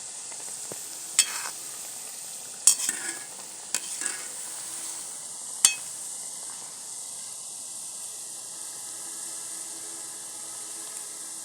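Namak para dough snacks frying in hot oil with a steady soft sizzle and hiss, broken by a few sharp clinks of a utensil stirring in the pan, in a village kitchen.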